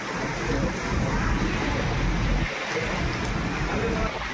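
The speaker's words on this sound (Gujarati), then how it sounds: "તૂફાની વરસાદ છે" Heavy wind roars against the microphone with a dense rushing wash of rain in a storm on a farm, loud and continuous throughout.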